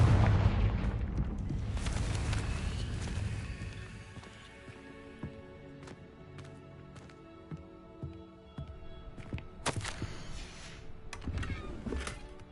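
A Confringo blast in Hogwarts Legacy opens with a loud booming rumble that fades into a string of sharp pops and crackling bursts, scattered and uneven, growing louder again near the end.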